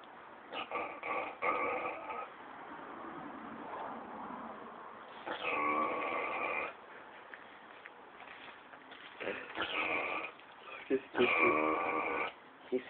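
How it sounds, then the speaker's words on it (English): A pet pig asleep on a couch snores in long, raspy, rhythmic breaths, close and moderately loud, with someone speaking over parts of it. "This is my pig sleeping on the couch."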